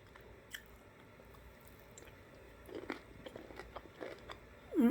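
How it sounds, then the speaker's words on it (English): Someone bites and chews crunchy broccoli up close, with soft irregular crunches and wet chewing through the clip and a louder bite at the end, no talk. "And then this is the vegetable."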